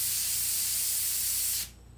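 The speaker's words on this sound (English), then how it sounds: "I could spray the black over the brown again" An airbrush sprays black paint over brown on a t-shirt, a steady close hiss lasting about a second and a half before cutting off sharply.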